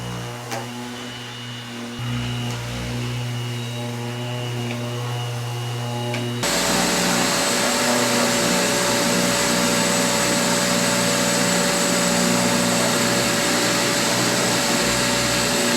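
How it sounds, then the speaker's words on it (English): A faint motor hum gives way to a loud, steady whirring roar of an electric sander with dust extraction running continuously, sanding wood with 150 grit paper. "Let's get a bit of sanding done."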